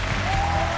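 Studio audience applause welcomes a couple onto a Chinese relationship TV show, a short, even wash of clapping at steady volume.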